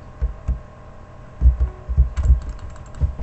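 Computer keyboard keys tapped during a Minecraft SkyWars game, a quick irregular run of soft clicks and thumps, close and moderately loud, with no talking.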